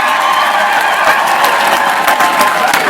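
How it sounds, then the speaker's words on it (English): A crowd at a 2018 election-night campaign event applauds and cheers for campaign volunteers, loud sustained clapping with scattered whoops and shouts. "Give yourselves a round of applause."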